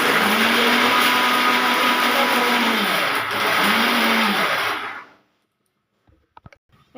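A mixer grinder whirs loudly with a brief dip in pitch midway, then winds down to silence, followed by a few faint clicks.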